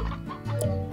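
Chickens in the Slime Rancher video game give a short, close burst of clucking, heard alone with no talk.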